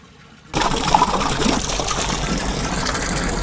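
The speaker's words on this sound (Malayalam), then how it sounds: "ഇത് ഇമ്പലർ ടൈപ്പ് അല്ല, സ്ക്രൂ ടൈപ്പ് പമ്പാണ്" A 250-watt screw-type submersible pump with a 40-metre head, running on an inverter, starts suddenly and then gushes water in a steady, loud, continuous rush close by.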